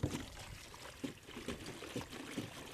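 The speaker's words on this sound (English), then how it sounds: "I'm going to fill the reservoir up here with just regular rainwater" Rainwater trickles and splashes into a container garden reservoir, a faint, uneven pouring with small bursts of dribbling.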